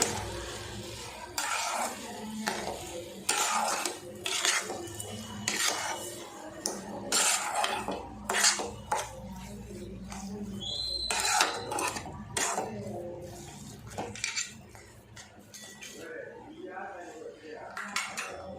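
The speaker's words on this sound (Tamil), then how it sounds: "ஒரு கப் அளவுக்கு சுகர் சேர்த்துக்கலாம் சேர்த்துட்டு இப்போ நல்லா கலந்து விட்டுருவோம்" Spoon stirring sugar into rava kesari in a metal pan, with continuous close scraping and clinking of utensil against pan in busy repeated strokes, easing off toward the end.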